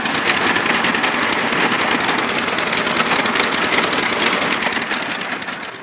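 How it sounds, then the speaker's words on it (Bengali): A power tiller's small engine runs loudly and steadily up close with a rapid chugging rhythm, easing slightly toward the end; no talking. "পাওয়ার টিলারের মাধ্যমে অত্যন্ত সহজ ওয়েতে আপনি জমি চাষ করতে পারবেন"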